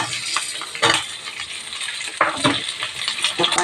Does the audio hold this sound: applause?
no